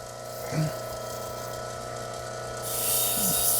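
Water runs steadily onto a lapidary grinding wheel under a constant motor hum, with a couple of brief clunks and the flow growing louder toward the end.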